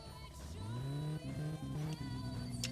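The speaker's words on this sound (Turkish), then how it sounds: "Bakın zaten gazın sesini anlarsınız." A tuned car engine in the video game My Summer Car revs up and holds, with its pitch rising, dipping and climbing again in several surges. The engine is close and steady, with no talking.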